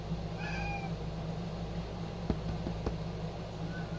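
A house cat gives a few short meows near the microphone early on, with another faint mew later, over a steady low background hum and a couple of brief knocks.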